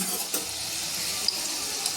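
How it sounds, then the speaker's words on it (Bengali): Katla fish fingers fry in oil in a pan over a medium flame, giving a steady, soft hiss with faint crackles and no talking. "মিডিয়াম ফ্লেমেই কিন্তু ফিশ ফিঙ্গারগুলো ভেজে নিচ্ছি।"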